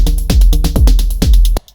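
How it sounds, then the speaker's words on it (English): A techno beat programmed on an Elektron Syntakt: a hard, distorted kick thumps in a tight, driving pattern with snares and hi-hats, loud and close, then cuts off abruptly. "the beat that I prepare for this tutorial, which is basically a hard, distorted kick,"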